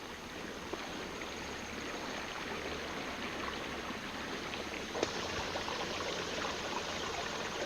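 Creek water flowing over rocks, a continuous broadband rushing and babbling that stays steady and fairly faint throughout, with a couple of brief clicks but no voices.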